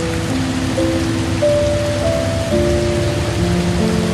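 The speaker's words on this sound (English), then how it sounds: "The rain is still falling." Steady rain pours through a Costa Rican rainforest at night, a dense continuous hiss of drops on leaves and surfaces, loud and close, with low tonal hums threading beneath.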